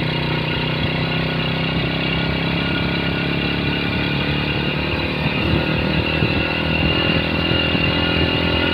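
A Honda Supra Fit motorcycle rides in second gear along a village road, its engine droning loudly and steadily up close, with a rough, labouring tone.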